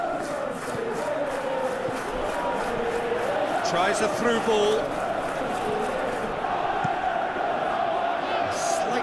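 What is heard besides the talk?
stadium crowd reacting in a football video game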